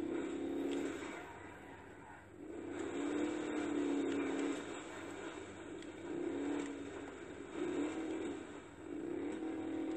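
A car driven in the video game GTA 5 gives a fairly quiet engine drone that swells and eases repeatedly as the throttle rises and falls, with no voices over it.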